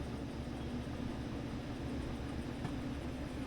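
Locomotive rolling along the rails in the train simulator Derail Valley, a steady low rumble of engine and wheels with faint clatter, continuous and unbroken throughout.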